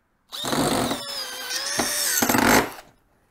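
A Tacklife 12V cordless drill on its second speed drives a Spax number 10, 3-inch Phillips-head construction screw into wood: one continuous close motor whine that strains and dips briefly as the screw bites, then stops abruptly.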